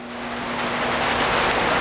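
Rain coming down outdoors beside a hydroponic tomato growing setup, a steady hiss that swells louder over the first moments and then holds, with a faint steady hum underneath and no talking.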